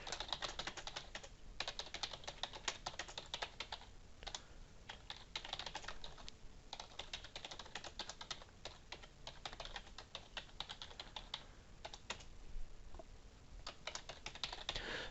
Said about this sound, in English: So I type in my text.